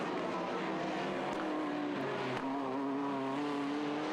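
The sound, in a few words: TVR Tuscan race car braking hard with tyre squeal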